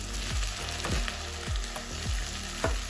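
Fresh tomatoes hit a hot pan for a Cypriot turlu seasonal stew, giving a constant loud sizzle and frying hiss, punctuated by rhythmic low scraping knocks of stirring about every half second.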